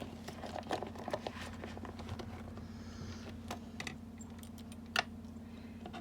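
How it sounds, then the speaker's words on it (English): Scissors trimming a little of a cat's fur make a run of small, quiet clicking snips scattered through the stretch, with one sharper snip near the end, over a steady low background hum. "Now I am going to come along with my scissors."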